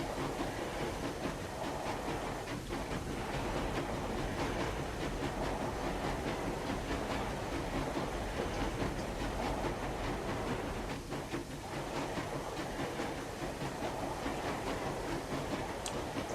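A video-game steam locomotive climbs a gradient with a steady, continuous rumble and rhythmic clickety-clack that carries loud and unbroken, with no voices.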